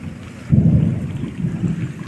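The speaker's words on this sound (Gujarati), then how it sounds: "હા હજી તો ગાજ્યો" Thunder during a rainstorm: a short, loud, low rumble rolls in after a moment of steady rain hiss and fades unevenly.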